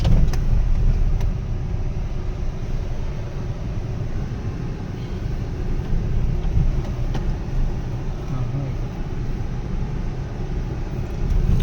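A car drives off-road through Jim Corbett National Park, its engine rumbling steadily and close by over bumpy terrain, with continuous low road noise and occasional knocks for the whole stretch.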